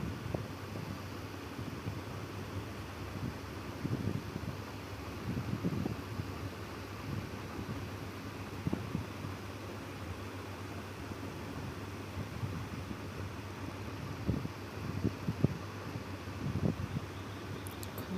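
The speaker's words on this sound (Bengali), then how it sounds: "প্রচুর হাওয়া দিচ্ছে" Steady broadband wind rushing past the microphone on a quiet road from New Digha to Shankarpur, with low rumbling gusts and buffeting throughout, continuous and fairly loud.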